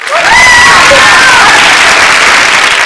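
Clapping and cheering from a studio audience at a game show: a dense, loud, continuous burst of applause with crowd noise.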